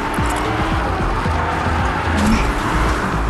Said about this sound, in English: Run the car.